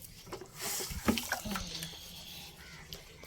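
Water runs and splashes into a container at an outdoor village watering spot. The gushing is moderately loud and swells briefly near the middle, with faint voices in the background.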